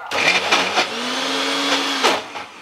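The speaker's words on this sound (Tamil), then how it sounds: "அரைச்சாச்சு" A mixer grinder whirs loudly and steadily grinding greens, its motor pitch rising and dipping as it churns, then winds down.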